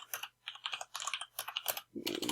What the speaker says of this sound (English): And then we carry on typing.